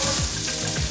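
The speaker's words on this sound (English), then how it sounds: "the mustard seeds are spluttering right now" Mustard seeds spluttering in hot oil for an Indian egg curry, a close, steady crackling sizzle with quick popping bursts.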